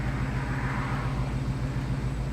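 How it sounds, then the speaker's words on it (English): Low, even engine hum of an idling 1970 Chevrolet Chevelle, steady and continuous with a slight rhythmic pulse, no voices. "Notice how nice the idle is in the car."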